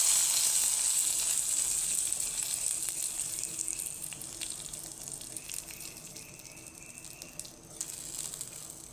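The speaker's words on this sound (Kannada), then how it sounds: "ಇನ್ನು ಇದಕ್ಕೊಂದು ಒಗ್ಗರಣೆ ಹಾಕುವ." Mustard seeds and spices for a tempering crackle and sizzle in hot oil, poured over a Havyaka-style buttermilk curry of ivy gourd and cucumber. A steady, bright hiss starts loud and slowly fades over several seconds, with no talking.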